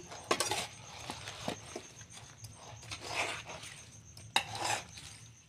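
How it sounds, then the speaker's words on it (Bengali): Green mango pickle ingredients with mustard oil being mixed in a bowl, with uneven clinks, scrapes and stirring knocks of a utensil against the dish, fairly quiet and close, with no talking. "এবারে সবগুলো মিক্স করছি"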